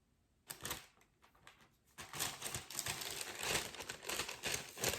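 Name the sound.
unwrapping a book wrapped in kraft paper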